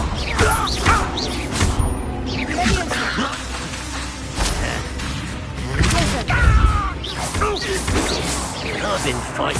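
Confringo blasting spell in Hogwarts Legacy, loud crashing impacts and whooshing blasts amid busy combat noise, with voices speaking over the action.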